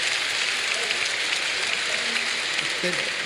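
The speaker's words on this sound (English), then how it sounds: "live concert, that's why you hear the applause" Audience applause at a live orchestral concert in a huge auditorium, a steady, dense wash of clapping heard fairly faintly from start to finish, with a hint of voice underneath.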